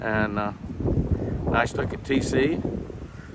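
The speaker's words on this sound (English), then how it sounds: "I apologize for the wind noise." Wind buffets the microphone in low, rumbling gusts on a hot, very windy day while someone speaks briefly over the blustery noise.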